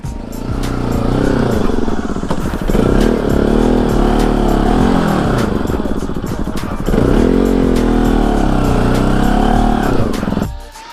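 A motorcycle engine runs close by, revving and dropping in uneven surges with mechanical clatter, then cuts out abruptly near the end.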